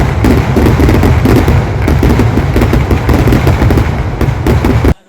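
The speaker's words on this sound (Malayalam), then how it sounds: "അത്യാവശ്യം തെറ്റില്ലാത്ത ഒരു വെടിക്കെട്ട് തന്നെ ആയിരുന്നു." Temple festival fireworks at the Arattupuzha Pooram in Kerala, a dense, continuous barrage of loud bangs and crackling bursts rolling on without pause for about five seconds before cutting off abruptly.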